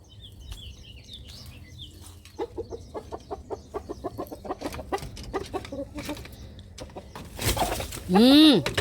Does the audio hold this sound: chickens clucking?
yes